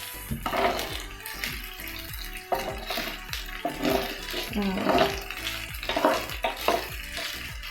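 Chilli garlic sausages frying in a pan, a steady close sizzle broken by repeated scraping and stirring strokes.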